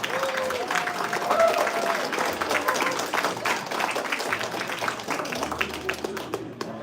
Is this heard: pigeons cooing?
no